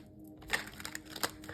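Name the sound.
shuffling tarot cards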